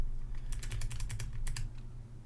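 Quick bursts of clicky key presses on a computer keyboard during C++ coding, close and fairly quiet, a dozen or so rapid clacks in two short runs over a low steady hum.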